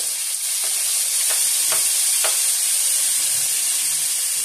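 Onions frying in a hot pan on a home stove while a menudo is cooked, giving a steady, close broadband sizzle with a few brief spoon scrapes early on and no talk.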